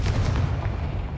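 The Confringo blasting spell goes off in the Hogwarts Legacy video game, a dense, heavy booming rumble with explosive bursts, loud and close over a short span.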